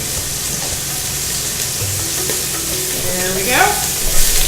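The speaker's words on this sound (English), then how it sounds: "Sizzling at me now, I'm sure you can hear it." Diced onions and apple sizzle in a heated pan, a steady close frying hiss with stirring scrapes that grows louder near the end, while someone speaks briefly over it.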